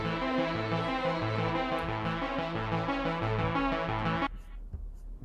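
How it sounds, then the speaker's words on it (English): Synth bass from a Tal Uno LX software synthesizer, arpeggiator off, playing a steady, loud rhythmic bass line with bright harmonic layers for about four seconds before cutting off abruptly into near silence. "I'm using a Tal Uno LX."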